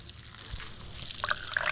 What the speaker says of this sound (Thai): อันนี้ก๊อกน้ำหรืออะไรครับเนี่ย